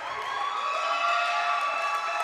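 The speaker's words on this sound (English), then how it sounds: "you can hear the crowd chanting" Crowd at a high school volleyball game, Nevada Union Miners against Jesuit Marauders, roaring and chanting in a steady sustained wash of massed voices that fills the whole stretch without a break.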